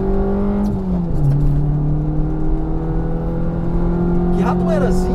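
A 2002 Fiat Palio 1.0 Century engine drones steadily from inside the car, its pitch dipping and then holding level with a brief rise near the end, loud and continuous.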